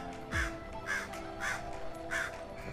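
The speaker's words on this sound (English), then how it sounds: "Fucking cuckoo crows and shit." Crows caw repeatedly outdoors, four evenly spaced harsh calls at a moderate distance over a steady low background hum.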